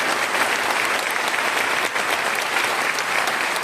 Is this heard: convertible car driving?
no